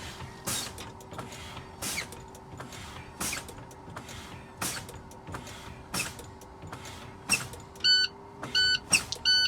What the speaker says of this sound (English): I both hear and see the low air alarms.